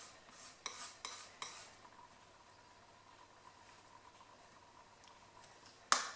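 A homemade watercolour paint mixture is stirred in a small dish, with a few light clinks and scrapes at the start, a quiet lull, then one sharp tap at the end.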